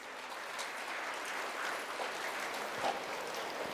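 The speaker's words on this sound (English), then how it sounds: "Let us give them a big round of applause." Audience applause fills a hall at an International Women's Day celebration, a steady dense clapping that holds throughout at even loudness with no voices over it.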